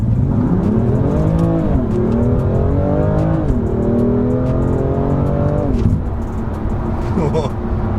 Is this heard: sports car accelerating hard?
yes